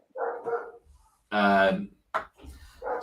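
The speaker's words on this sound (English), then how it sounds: "you have to just excuse the dog in the background having a meltdown" A dog barks loudly in the background, sounding a few sharp barks and yips in short bursts while people talk over it.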